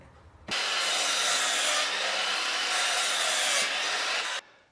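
Wooden counter-frame pieces for a van window being sawn by hand, a steady, loud rasping stroke that runs continuously for about four seconds before stopping abruptly, with no talk.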